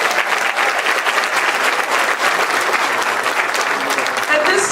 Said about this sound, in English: Why don't you give her a warm round of applause?